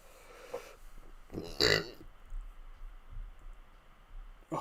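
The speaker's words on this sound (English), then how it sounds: "Oh, sorry guys, I just burped." A single short, close burp from a streamer playing Minecraft Legacy Edition, rising briefly out of a quiet room-tone background with faint clicks around it.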